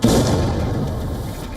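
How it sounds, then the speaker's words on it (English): A heavy boom from a Russian drone and missile strike on Kyiv, a sharp onset followed by a long dense rumbling tail that fades slowly, loud and close. "Russian drones and missiles roar across the Ukrainian skies. Explosions rock busy streets."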